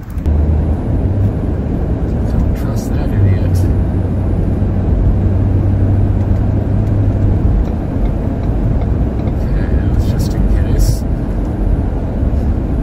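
Inside a car heading out toward the airport, a constant loud low road and engine rumble fills the cabin, with a few brief higher clicks or rattles and no clear voices.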